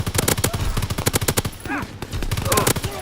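Rapid automatic fire from a BAR assault rifle in Call of Duty: WWII, loud repeated bursts of tightly spaced shots running almost without pause, with a voice talking briefly between volleys.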